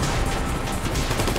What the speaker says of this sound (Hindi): पीछे से गोलियां चल रही हैं, फटाफट भगा ले